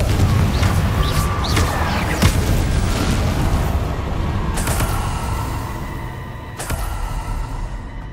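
Confringo spell blasts in the Hogwarts Legacy video game: a quick series of sharp bursting booms and fiery pops, loud and close, with continuous rumbling effects between them and no talking.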